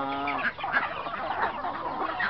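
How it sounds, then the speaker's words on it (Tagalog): Aseel chickens on a farm cluck steadily and close by, with overlapping calls from several birds throughout. "Daming sisiyo si Luding."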